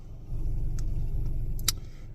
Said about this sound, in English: we got woken up by a truck appearing at the driveway where we were stealth camping at